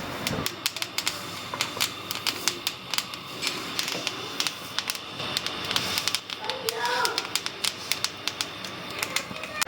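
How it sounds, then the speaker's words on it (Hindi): Flaxseeds dry-roasting in a pan crackle and pop in quick irregular sharp ticks, with a spoon scraping through them, close and steady throughout. "इस तरह से पॉपकॉर्न टाइप की इसमें से आवाज़ आती है, उसका मतलब होता है कि ये भुन गई है"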